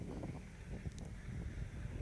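Soft, steady wind rumbling and buffeting outdoors over a wheat field, low and continuous with faint rustling, no voices.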